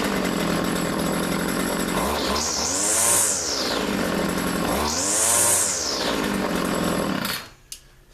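John Deere weed eater, an old trimmer in bad shape, running loud and steady with two sharp rising revs as the throttle is opened and released, then cutting off near the end.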